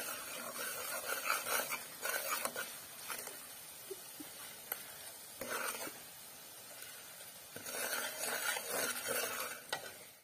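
A spoon stirs salted broiler chicken in a hot pan, with bursts of scraping and rustling over a steady light sizzle and brief pauses between strokes. Nearby and moderately quiet, with no voices.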